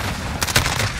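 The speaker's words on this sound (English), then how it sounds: "Damn, good shot." A single loud gunshot burst in a first-person shooter game, a sharp broadband crack with a quick second report, standing out over a dense game-audio background.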